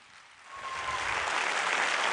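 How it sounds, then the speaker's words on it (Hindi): Applause from an audience at a Human Rights Day event swells steadily and holds as dense, even clapping, with no one speaking over it. "तालियां बनता है भाई"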